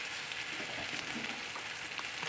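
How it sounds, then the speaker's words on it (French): Courgettes browning in a frying pan for ratatouille give off a steady, close sizzle of frying that runs without a break, with faint crackles over it. "on va retourner les courgettes qu'on a commencé à dorer"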